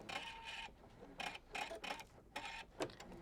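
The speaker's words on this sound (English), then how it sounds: "I'm just going to go ahead and start the machine. I'm going to stitch out the crosshairs" An embroidery machine stitches out crosshairs on a quilt project, a steady, close mechanical chatter of rapid needle strokes in short uneven runs, fairly quiet, with no talking.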